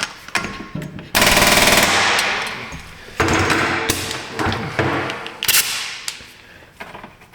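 A 498 impact gun fitted with a shake-and-break adapter rattles loudly in rapid bursts while removing a part during brake work, with clanks and thumps between the bursts.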